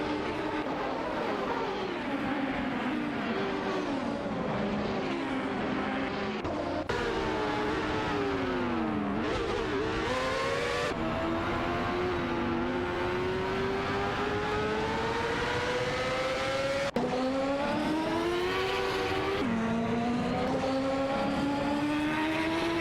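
Race cars in a video game scream down the straight, with layered engine whines that climb in pitch, drop at each gear change and climb again, continuous and loud throughout.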